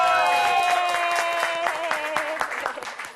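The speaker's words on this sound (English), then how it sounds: "Let's all give Master Peter a round of applause." Audience applause at a Buddhist Pure Land session, a crisp burst of many hands clapping that slowly thins and fades, with sustained musical tones ringing underneath at first.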